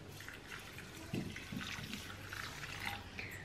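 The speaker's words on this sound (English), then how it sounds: "basically I'm just gonna almost cover these in cold water" Cold water pours and splashes over seeds for crackers in a kitchen bowl, a steady close liquid trickle with a few heavier splashes and no talking.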